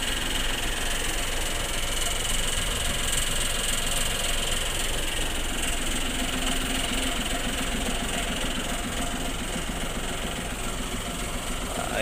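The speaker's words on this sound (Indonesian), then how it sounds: "nampak mesin dari Hino RK260 ya. Jadi dibuka kapnya, panas soalnya baru tiba." A Hino RK260 bus engine, just arrived and still hot, runs with its hood open, producing a loud, steady idling rumble and mechanical clatter close by with no pauses.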